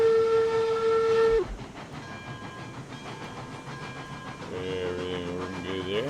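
A Cook Mogul steam locomotive, wood-fired with a big smokestack, runs in the RailRoads Online game: a loud steady whistle tone for about a second and a half, then rumbling running noise and rail clatter, with a second harmonic whistle rising near the end.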